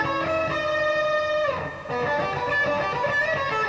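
Electric guitar playing a solo, a sustained distorted melodic line with held notes and a bend near the middle, steady and loud with no talking.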